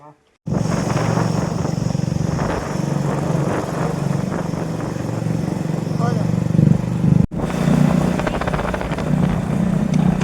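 Steady two-wheeler engine drone from a TVS XL moped or Bajaj Discover motorcycle being ridden, droning continuously with a brief cutout near the end, while voices talk over the running engine.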